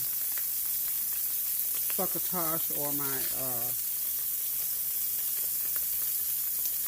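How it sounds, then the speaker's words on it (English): Constant sizzle of salmon pan frying runs throughout, with a person speaking briefly over it partway through. "I'm just pan frying that salmon"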